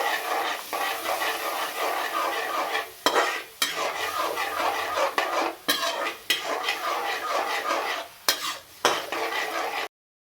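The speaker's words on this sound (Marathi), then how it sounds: "त्याच्यामध्ये 1 वाटी दही टाकून घ्यायचं आहे. मिक्स करून घ्यायचं आहे." Yogurt is stirred into Kashmiri dum aloo in a pan over low heat, with a spoon scraping and clinking against the metal in a steady rhythm above a soft sizzle and no talking.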